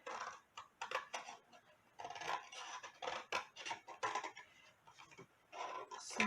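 Scissors trim down the edge of a handmade paper treat box in quick, close snips. Crisp cuts and papery scratches come in uneven bursts, quiet and alone, with no talk.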